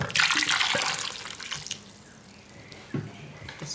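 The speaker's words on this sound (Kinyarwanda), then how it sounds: "Hanyuma ndasukamo amazi." Water rushes from a tap into a pot of potatoes, a loud splashing pour at first that settles into a quieter trickle, with a couple of clunks from the pot.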